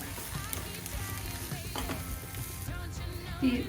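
Onion masala with coriander powder sizzling in a pan for Kerala-style fish molly, a steady moderate frying hiss with a few faint stirring sounds and no talking.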